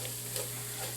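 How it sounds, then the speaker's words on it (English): Flour thickener sizzles steadily in a hot pan as a roux-like base for a braised pot roast, a close, continuous hiss with faint stirring and no voices. "we want that to sizzle"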